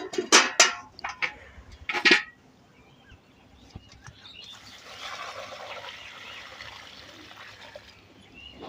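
Liquid organic fertilizer, mixed with two liters of water, is poured at the base of a periwinkle plant. A few sharp clinks and knocks come first, then a steady, soft splashing pour builds and runs on to the end.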